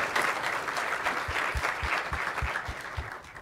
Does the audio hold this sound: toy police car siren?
no